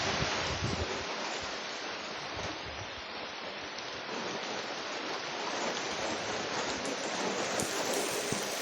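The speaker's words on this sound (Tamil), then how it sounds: "வந்துருச்சு வந்துருச்சு மழை வந்துருச்சு காற்று மழை காற்று மழை" Steady, dense rain pours down with a constant hiss, mixed with wind, loud and close throughout with no voices.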